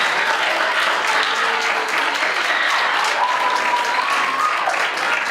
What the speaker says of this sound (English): Let's give all of our schools a round of applause.